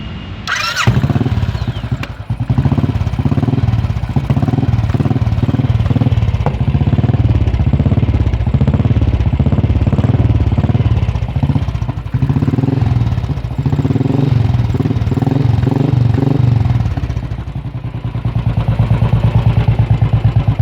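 A Royal Enfield Classic 500 motorcycle idles close by with a steady, thumping single-cylinder beat and faint mechanical clatter, running on its own without voices for about twenty seconds.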